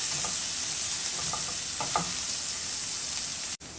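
Chopped green chillies sautéing in a hot pan, a constant close sizzle with occasional soft stirring scrapes, no voices.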